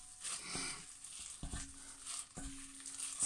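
A gloved hand mixes a low-carb longanisa sausage mixture, making soft wet squishing and slapping sounds with a few sharper pats, quiet and close with no talking.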